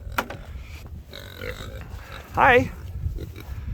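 Idaho Pasture Pigs on a small Upper Midwest farm give low grunts and a louder snorting oink near the middle, close by, while a person speaks briefly nearby.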